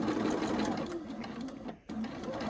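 A sewing machine stitching quilt squares runs in a steady rapid whir, briefly stopping and then starting again, close by and without talk.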